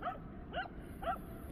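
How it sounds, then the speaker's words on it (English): A dog barks three times in short, evenly spaced yelps close by, loud against a steady outdoor background near the water. "All I know here is that bloody dog's making a hell of a racket."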